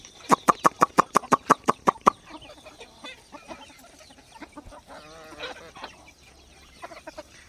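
A quick, loud series of about ten evenly spaced sharp calls opens, then free-range country chickens on a farm cluck and murmur faintly in a busy mix of softer sounds.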